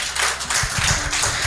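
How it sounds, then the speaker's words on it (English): Short burst of clapping from a group, brisk and uneven, lasting only a moment. "It is important to give a very good round of applause to"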